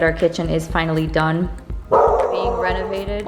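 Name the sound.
dog barking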